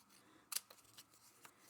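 Scissors cut through card paper in one sharp, close snip near the middle, followed by a few faint rustles and a small click, all quiet with no talking.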